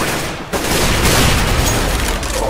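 Rapid gunfire in Counter-Strike, a dense, loud stretch of overlapping shots after a brief lull, with a sniper no-scope shot among them.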